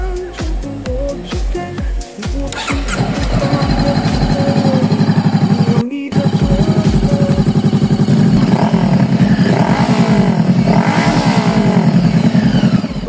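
A 2019 Honda CBR500R motorcycle engine idles with loud popping exhaust, then revs up and holds a steady, throaty roar, near and loud.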